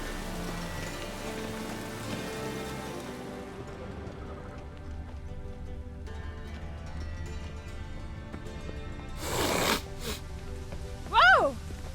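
Steady rain patters on surfaces in the video game The Witcher 3, a soft continuous hiss under scattered dialogue and a couple of brief louder bursts.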